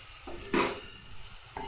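Ginger and garlic frying in a pan, a soft steady sizzle running throughout with a brief louder stir or scrape near the middle, close and fairly quiet.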